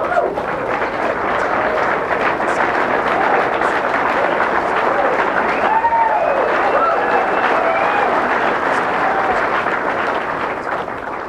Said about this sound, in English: The crowd going crazy because of Allison Fisher's ability to make shots